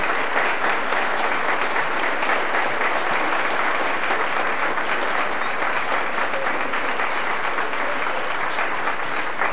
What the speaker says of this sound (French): on ne doit surtout pas oublier d'applaudir les deux institutrices